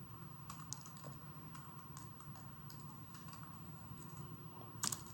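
Quiet typing on a computer keyboard, a steady patter of soft key clicks with a few louder taps toward the end, faint and close under a low room hum; no talking.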